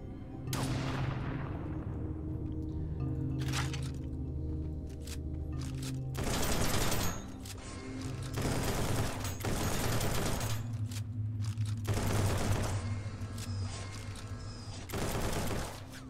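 Weapons fire in the Project Stray game in several loud, broadband blasts and bursts, spaced a few seconds apart over a steady droning tonal background.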